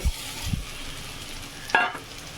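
Prawns frying in a pan with cabbage and spices, a faint steady sizzle with a few soft stirring knocks and a brief louder scrape near the end.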